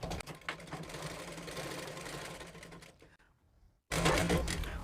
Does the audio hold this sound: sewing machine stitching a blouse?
yes